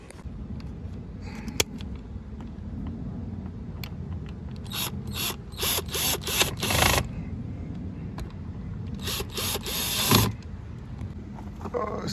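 Plastic interior trim pieces on a Dodge Charger are pressed back into place, giving a few sharp clicks and creaking rustles in short bursts over a low background hum.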